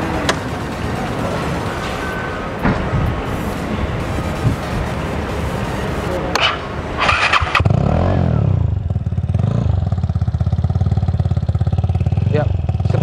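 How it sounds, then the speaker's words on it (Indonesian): A Vespa Sprint scooter engine with a Remus exhaust runs steadily with a throaty exhaust note, loud and close, its pitch shifting partway through as it settles into a low rumble. "Seperti itu bunyi dari knalpot remus ini."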